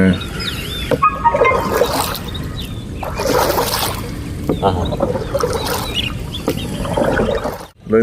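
A boat is rowed with alternating paddle strokes on the Pampa river in Kuttanad, Kerala, giving soft rhythmic water splashes and trickles about once a second, close by, under people talking, with a rooster faintly in the distance.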